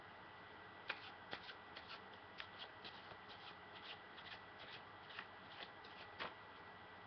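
Playing cards being shuffled by hand during a card trick, a series of soft riffling and snapping bursts at an irregular rhythm, close and quiet with no talking.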